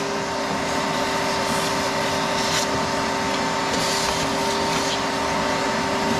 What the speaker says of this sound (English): Suck up any debris you see.